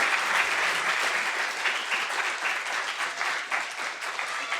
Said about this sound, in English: giving another round of applause